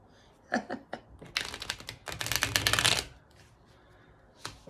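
A deck of cards is riffled and shuffled up close, a few quick flicks building into a dense, fluttering burst that ends abruptly.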